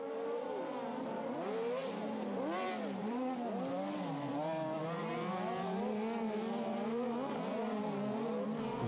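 Cross cars racing in a competition with an Italian driver in a yellow cross car under pressure, several engines revving and shifting up and down in overlapping whining tones, loud and continuous with no talk.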